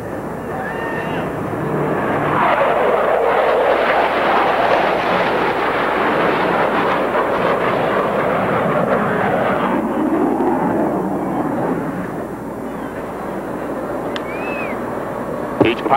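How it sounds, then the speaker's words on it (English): Blue Angels jets roar through brake turns at an air show, a loud, sustained, broad rush of engine noise that swells and slowly eases over about sixteen seconds. "each pilot will perform an individual brake turn and exit the flight line in a separate direction"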